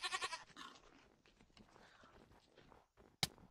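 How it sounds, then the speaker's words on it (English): Billy goats bleating in the video game Minecraft, a burst of nasal bleats at the start followed by soft footstep-like shuffling and a sharp click near the end, with no speech. "Some billy goats."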